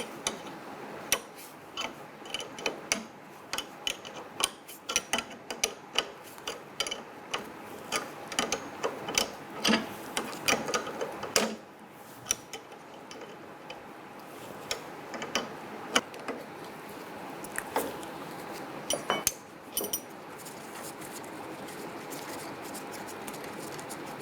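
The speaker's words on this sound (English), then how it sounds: "Use your wrench to go ahead and spin that stud out." Ratcheting wrench spinning out a water pump stud on a 1997-2006 Jeep Wrangler, quiet rapid metallic clicks and ticks in irregular bursts with brief pauses, close up.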